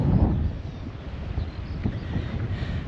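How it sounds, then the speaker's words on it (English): Strong coastal wind near John O'Groats buffeting the microphone, a continuous low roaring rumble with gusty swells, loud and close, heard alone without speech. "if you can hear me over this wind"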